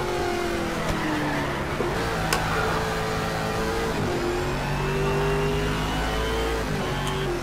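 A racing car engine in Shift 2 Unleashed overtaking a Mercedes SLS, with a loud, close engine whine rising and falling through gear changes, a second car's engine layered underneath and brief tire squeal into a corner.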